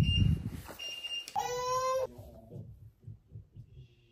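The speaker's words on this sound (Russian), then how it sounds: "Таймер сработал." A timer goes off with a bright electronic tone lasting under a second, heard close in a quiet home after some brief rustling.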